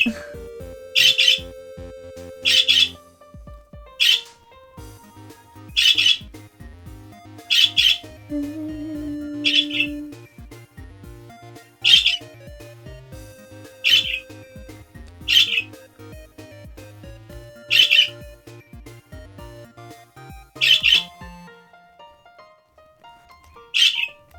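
Birds squawking in a steady series of sharp, loud, evenly spaced calls, roughly every second or so, over a quiet low background hum, with no talking.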